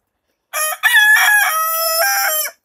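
A Cream Legbar rooster crows loud and close, one long clear call held for about two seconds after a short opening note, with no other sounds around it.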